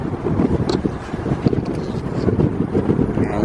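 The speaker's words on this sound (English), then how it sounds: "you can see it's crazy windy out here" Strong wind buffets the microphone in a constant roaring rumble with gusty surges, no voices heard.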